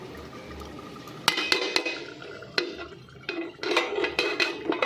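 Water poured into a pan of mustard bhetki fish curry after rinsing the spice bowl, a splashing pour with clinks of metal, close by.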